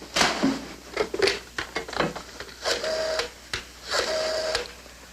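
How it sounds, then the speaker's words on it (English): A telephone in a 1960s sitcom scene is dialed: a run of clicks and whirring rotary-dial pulls comes in separate bursts, close and fairly loud, with no talking. "pick up that phone and dial Beachview 23598"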